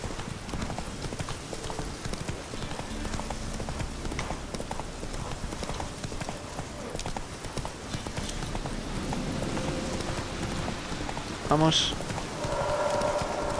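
A horse gallops in The Witcher 3: Wild Hunt on PC, with steady, rapid hoofbeats running throughout the clip over rain-like ambience. A short spoken word comes near the end.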